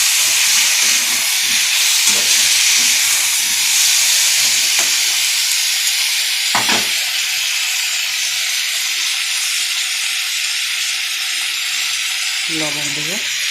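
Onion and tomato frying in a pan with bottle gourd and potato, a loud continuous hiss and sizzle filling the space, with a few faint knocks and clatters but no voices.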